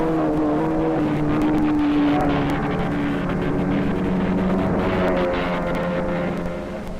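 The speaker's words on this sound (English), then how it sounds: "Outboard round the bend as this driver follows the marking buoy back onto the single course" Outboard racing motorboats at Cypress Gardens roar steadily at close range, a continuous droning engine tone with shifting pitch as a boat rounds a bend following a marker buoy, no voices.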